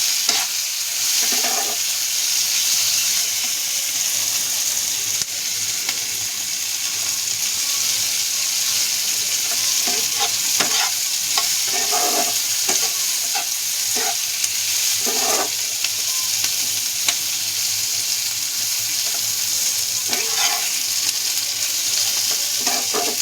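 Capsicum frying in a pan gives a continuous hiss, with intermittent scraping strokes of a spoon or spatula every few seconds over a long stretch, close up and without voices.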